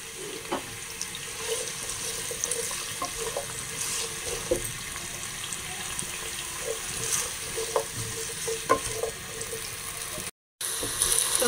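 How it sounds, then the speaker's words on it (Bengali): Potatoes frying lightly in a pan for a homemade chicken gravy, a steady close sizzle with scattered clinks and stirring scrapes throughout, briefly cut by a short gap near the end. "এখন আমি যেটা দিব সেটা এই আলুগুলোকে একটু হালকা করে ভেজে দিব।"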